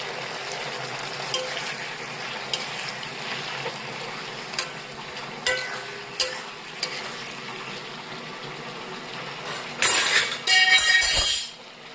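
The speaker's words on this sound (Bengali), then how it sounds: "এবার ওর মধ্যে বেটে রাখা মশলাটা দিয়ে দিলাম। আর সামান্য একটু কাশ্মীরি লঙ্কার গুঁড়ো রঙের জন্য।" Ground spice paste and a pinch of Kashmiri chilli powder fry in a pan for a Bengali cauliflower, potato and aubergine curry with bori, giving a steady close sizzle with a few soft clinks and a louder burst of hissing near the end.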